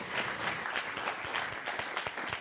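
An audience at a round-table event on women and retirement applauds steadily, a dense even patter of many hands clapping at moderate distance with no talk over it.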